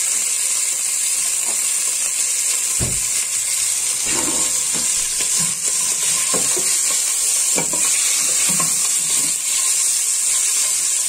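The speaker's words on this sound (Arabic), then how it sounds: "انا هون حطيت زيت، بدي اقلي اللحمه" Meat fries in oil in a pan with a constant bright hissing sizzle, broken by occasional scraping and clattering as it is stirred, close up and without talk.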